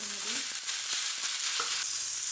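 Red pumpkin pieces with turmeric, crushed ginger and spices roasting in a hot pan, giving a steady close sizzle with a few soft scrapes and stirring clicks, no talking.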